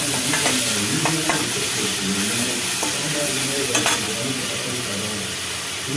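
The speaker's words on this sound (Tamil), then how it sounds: "இப்போ தக்காளியை சேர்த்து வதக்கிக்கலாம்." Tomatoes and onions sautéing in a pan, with a steady close sizzle and repeated scraping stirs of a spoon against the pan, a few sharper clinks scattered through.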